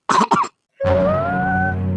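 Two quick, sharp coughs sound close up, followed by a short pause and then a sustained tonal drone.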